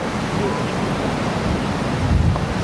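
Steady wind gusting across a beach in Egypt, a continuous broadband rush with low rumbling buffets against the microphone, growing slightly stronger near the end, with no speech.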